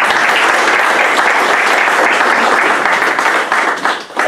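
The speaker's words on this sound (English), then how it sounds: "round of applause for an excellent presentation" Sustained audience applause after a presentation at a tech conference, dense and steady throughout before tapering off near the end.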